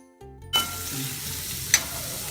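Chopped onions sautéing with a little salt in a pan for a Nagercoil-style egg curry, a steady close sizzle that starts abruptly after a short quiet lead-in, with a brief clatter of stirring partway through.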